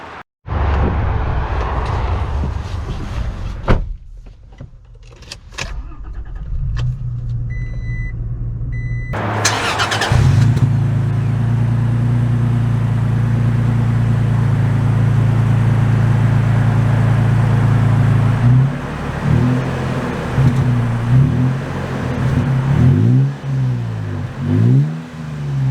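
A 2022 Toyota Tacoma TRD Pro with a manual transmission cranks and fires up, settles into a loud, rumbling idle close by, then revs and pulls away under a steady engine drone with shifting pitch.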